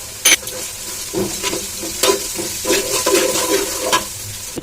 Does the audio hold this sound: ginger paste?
yes